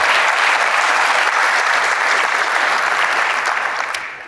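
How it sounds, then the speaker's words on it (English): Applause from a conference audience in Nashville fills the room, a steady, dense wash of clapping that holds loud throughout and thins slightly near the end, with no talk over it. "let's just pause and give a round of applause to all of the support staff here"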